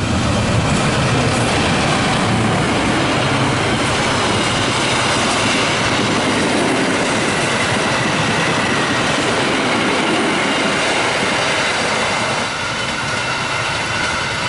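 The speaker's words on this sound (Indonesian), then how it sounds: "Dua Malabar bersilangan di stasiun Cimekar." Two Malabar passenger trains cross each other at Cimekar station in Indonesia, producing a loud, steady roar of rolling wheels and carriages that runs unbroken for about fifteen seconds, with no voices.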